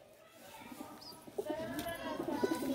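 Pigeons coo softly nearby while leg rings are fitted to them, the low murmuring calls rising slightly toward the end of the short, quiet stretch.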